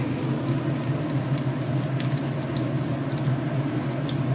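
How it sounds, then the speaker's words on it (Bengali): Onion, ginger, garlic and green chili frying in a pan for chicken morog polao, a continuous bubbling sizzle at even loudness, close and alone with no talk. "এখানে পেঁয়াজ আদা রসুন লঙ্কাটা ভাজা ভাজা হয়ে গেছে।"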